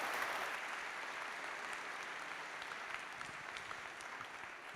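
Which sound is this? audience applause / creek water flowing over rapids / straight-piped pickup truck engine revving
audience applause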